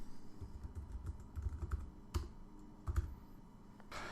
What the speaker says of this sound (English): So I'll type Photo Touch.